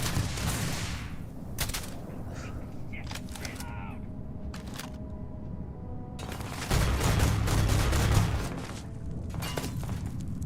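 Gunfire in the sci-fi game Starfield, scattered shots and bursts with a louder volley of fire later on, set against a steady game background and mixed with occasional clicks.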